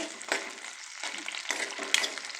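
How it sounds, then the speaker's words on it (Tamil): Ginger, garlic and onion sauté in oil in a pan, a soft sizzle broken by a few scraping stirs, close but fairly quiet. "இஞ்சி பூண்டு வெங்காயம் நல்லா எண்ணெயில் வதக்கிக்கோங்க."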